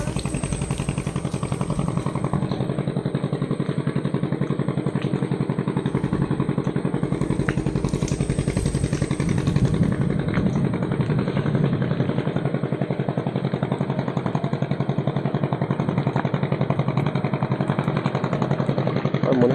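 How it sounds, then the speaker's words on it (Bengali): Steady engine drone from a boat on a river in the Sundarbans at night, a continuous mid-pitched hum with faint clatter running throughout at even loudness. "আর মনে হয় এদিকে বোট যাচ্ছে"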